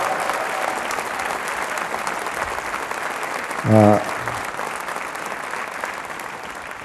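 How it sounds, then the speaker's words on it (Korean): Steady applause from a church congregation at a sermon, a dense wash of clapping throughout, with a brief sung or spoken tone from a voice midway. "박수 한 번 더 드립시다."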